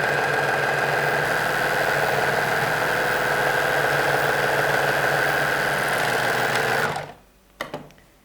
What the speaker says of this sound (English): So now we're back with my beloved overlock machine.